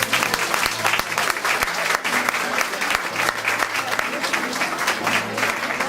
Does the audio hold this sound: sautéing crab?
no